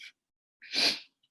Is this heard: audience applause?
no